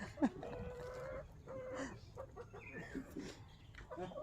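A rooster gives a short squawk near the start, followed by scattered clucking and farmyard bird noises over a low background.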